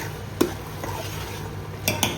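A spoon stirs vegetable bhaji gravy in a cooking pot, soft scraping and swishing with a few sharper metallic knocks against the pot, close and alone with no talk.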